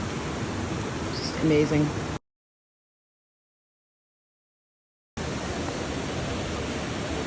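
Rushing water from the central falls at Watkins Glen cascading down a rocky gorge, a steady broadband roar with a short gap of silence partway, and a voice speaking briefly over it near the start.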